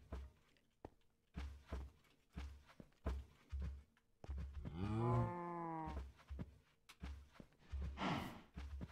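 Cows in a video game moo once, loud and close, a long drawn-out low call, amid a steady rhythm of heavy hoof-like footsteps and a breathy snort.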